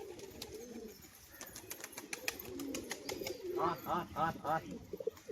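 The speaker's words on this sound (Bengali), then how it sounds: "বাজির আওয়াজটা দেখুন" A male crested pigeon coos in a courtship display: soft, repeated throaty coos that swell near the end, with a voice murmuring in the background.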